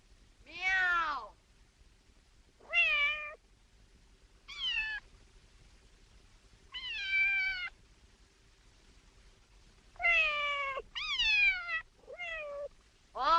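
Several cats meowing in separate drawn-out calls, about ten in all, clear and close with quiet gaps between them and no voices.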